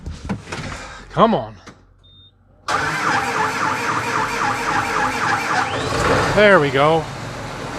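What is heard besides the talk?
tractor engine starting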